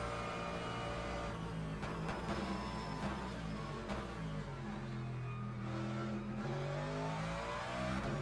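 GT3 race car engine at Fuji in Le Mans Ultimate, a loud continuous close-up drone rising and falling with gear changes and throttle lifts, heard alone without talk.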